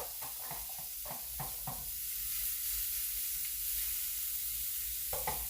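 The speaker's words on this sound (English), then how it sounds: "You can hear that sizzle." Steady, close sizzling of shrimp and vegetables frying on a hot griddle, with a few scraping stirs early on and near the end.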